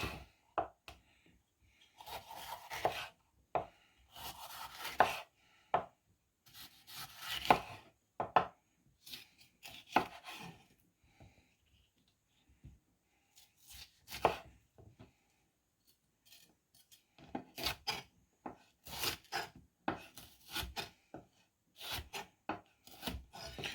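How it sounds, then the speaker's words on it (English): A knife cuts around a green bell pepper on a wooden board, giving irregular bursts of sharp slicing and chopping strokes with pauses between them. The cuts are close and fairly quiet, and no one speaks. "So first step is to take off the stem, then cut around the vegetable."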